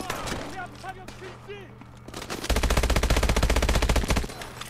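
Rapid automatic weapon fire in Call of Duty: Advanced Warfare rattles out in a loud, steady stream during the second half, after scattered shots and game sounds, with some voice present.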